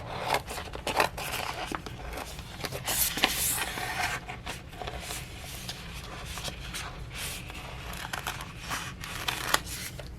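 Craft vinyl sheet being cut and trimmed for a Cricut project, with steady close scraping and slicing strokes and a few sharper snips, fairly quiet and unbroken, with no talking.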